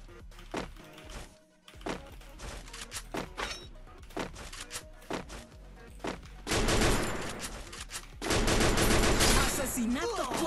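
Rapid bursts of Free Fire video game gunfire crackle in quick succession, shifting into sustained automatic fire, loud and dense with some mechanical thunks between.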